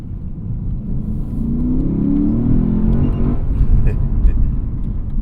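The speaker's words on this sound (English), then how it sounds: "Love being able to rev out." A 2020 Lexus RC F Track Edition engine revs out while driving, a deep rising rumble building in pitch over several seconds, heard from inside the car with a voice speaking over it.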